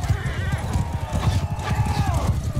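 Horses gallop in the video game Mount & Blade II Bannerlord, with rapid rhythmic hoofbeats pounding close and loud alongside whinnies and neighs.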